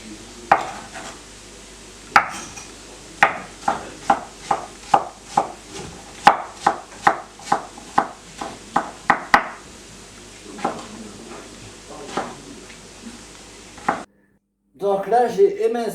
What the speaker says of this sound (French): j'ai émincé les courgettes et les poivrons